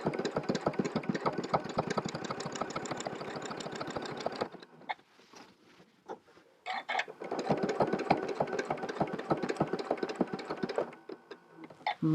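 Sewing machine stitching an appliqué design, rapid even needle chatter in two long runs separated by a quiet pause with a few isolated clicks, close and fairly loud.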